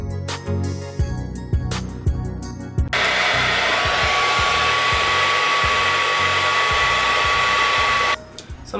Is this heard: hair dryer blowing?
yes